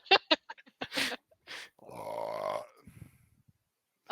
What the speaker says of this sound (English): I have a right to belch loudly